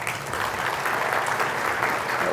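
A conference audience at DevOpsDays Cairo 2018 applauds, a dense, steady wash of many hands clapping at once, fairly loud and close, with no voices over it.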